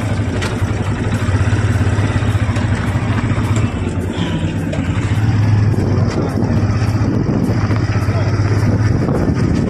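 Motorcycle ride through Patratu valley near Ranchi, a continuous engine drone with wind buffeting and road clatter throughout, loud and close, with no pauses.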